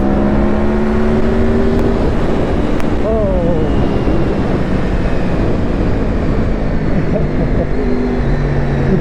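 A Honda VFR 800 motorcycle engine accelerating hard on the road, a loud continuous droning whine that rises in pitch over steady wind rush.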